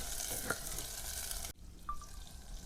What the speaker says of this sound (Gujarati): ડુંગળી જો આપણી કકડે છે, થોડીક સડી જ જવા દેવાની છે,